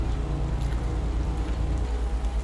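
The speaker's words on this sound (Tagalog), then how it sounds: "Umuulan eh." Steady rain patters continuously, with a low rhythmic pulsing underneath, dense and fairly close, no talking.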